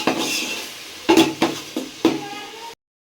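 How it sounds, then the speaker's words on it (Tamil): Onions sautéing in a pan for chicken biryani, with a light sizzle under several distinct clanks and scrapes of a ladle against the metal pan before the sound cuts off abruptly. "அரைச்சி வச்சு வெங்காயத்தை சேர்த்து வணக்கிக்கலாம்"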